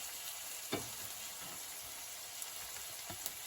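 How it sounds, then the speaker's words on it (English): Mushrooms and bulgur stir-fried in a pan with garlic butter, giving a steady soft hiss of frying and a few quiet scrapes and taps of the utensil, close but low in level. "stir fry this in here quickly"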